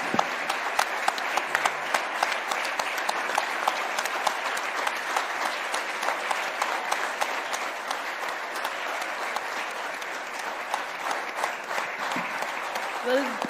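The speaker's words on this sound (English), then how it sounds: "A huge round of applause," A large audience at a felicitation ceremony gives ISRO scientists a long, sustained round of applause, dense even clapping heard from a distance with a few louder claps standing out and faint speech beneath.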